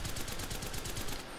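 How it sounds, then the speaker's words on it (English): A rapid, steady burst of automatic gunfire in a video game, about a second and a half of fast repeated shots at moderate loudness with no talk over it. "Is that you shooting?"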